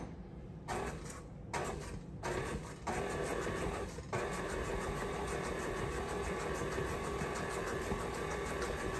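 A stand mixer beats red velvet cake batter with buttermilk and dry ingredients, a steady loud motor whir with a few brief dips in the first seconds before running continuously.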